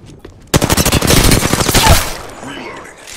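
Rapid automatic gunfire in the video game Apex Legends, a loud, fast stream of shots lasting about a second and a half before cutting off, followed by quieter game sounds.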